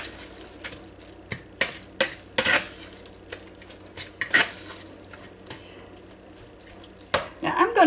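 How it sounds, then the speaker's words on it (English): Salmon patty ingredients being mixed in a bowl with a utensil, a run of irregular scraping clinks and knocks, close and fairly loud, ending in a quick burst of stirring. "Just mix ingredients thoroughly."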